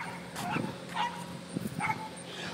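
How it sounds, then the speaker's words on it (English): Dogs bark outdoors in short yips and woofs, several separate bursts close by over a low background hum. "it ain't nothing but dogs running around this motherfucker"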